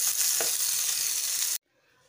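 Paneer frying in oil in a pan, a loud, bright, continuous sizzle that cuts off abruptly into near silence.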